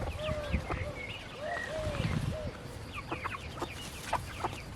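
Hens clucking and squawking on a hay-covered ground in a backyard hen run, with repeated short calls from several birds close by.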